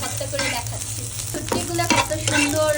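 Oil sizzling in a pan as dried chanda fish fries until reddish, with scraping stirs and light clinks of a utensil at irregular intervals, close up and without talk.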